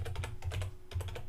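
Quick typing on a computer keyboard, with keys clicking in short clustered bursts. There is a brief pause before a final flurry, close and clear with no talking.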